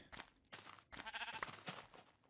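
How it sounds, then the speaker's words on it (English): A few sheep bleats, short and wavering, rise over a busy background of clattering Minecraft game sounds. "Come here, sheep."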